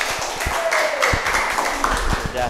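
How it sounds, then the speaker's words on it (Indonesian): Students in a classroom clap together in a brief burst of scattered applause, moderately loud, with voices and background chatter mixed in. "Tepuk tangan."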